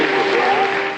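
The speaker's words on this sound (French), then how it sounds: "Les applaudissements résonnaient encore hier soir à Montlouis-sur-Loire" An audience applauds steadily and loudly at a tribute to François Mitterrand in Montlouis-sur-Loire, Touraine, a dense continuous clatter of many hands that fades slightly at the end.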